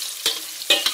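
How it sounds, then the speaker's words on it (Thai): Fish frying in hot oil until golden, a soft close sizzle broken by two or three sharp bursts of crackle and spatter, as if the fish is stirred or turned in the pan. "เราทอดให้เหลืองเลยนะ"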